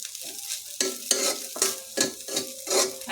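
Leftover cooked noodles reheating in a pan on a lit stove, stirred in regular rhythmic scrapes over a soft sizzle, close and clear with no talk.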